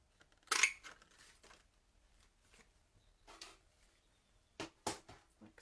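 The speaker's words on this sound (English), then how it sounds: "I have used this classic label punch, and I'm just going to cut out a little bit" Classic label punch cutting a small piece of paper for a card banner, a few faint, sharp snipping clicks separated by quiet handling noises.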